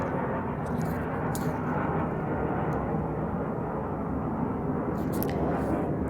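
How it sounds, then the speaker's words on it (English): A big airplane flies overhead, its broad engine roar steady and moderately loud throughout with a few faint clicks on top. "there's a big plane flying over me"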